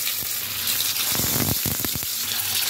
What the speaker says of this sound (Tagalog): Prito na natin yung ating tofu guys.